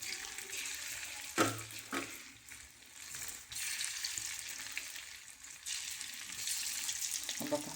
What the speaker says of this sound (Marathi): तेल शिल्लक राहू नको म्हणून मी थोड्याशा तेलात तळते